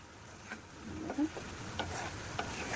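Chicken pieces with freshly grated raw coconut being stirred and sautéed in a South Indian coconut chicken dish, with a soft steady sizzle and scraping stirs at intervals and no talking.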